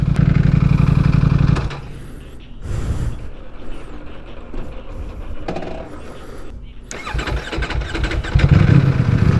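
A motorcycle engine cranks and fires, then idles and revs unevenly with short dips and a stuttering bark, loud and close, with no speech over it.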